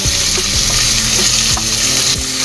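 Potatoes with green peas, tomato and onion frying in a kadai on low flame, a steady close hiss with occasional stirring scrapes and knocks.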